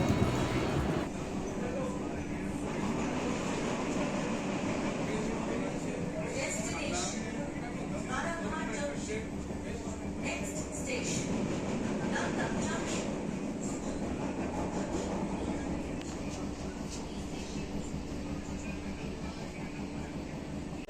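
A new AC local train runs on the Sealdah–Ranaghat line, heard from inside as a steady, loud rolling rumble with faint wheel clatter, and a voice speaks over it.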